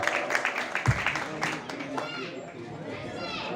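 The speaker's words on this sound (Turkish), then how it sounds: "Büyük bir alkışla uğurluyoruz" An audience at a gathering applauds an old poet, scattered hand clapping mixing with murmuring chatter and voices in a room, moderately faint and slowly thinning.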